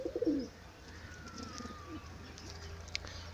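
A sick, sluggish pigeon coos softly at close range, a short low burbling call at the start, followed by quieter background chirps and faint ambient noise.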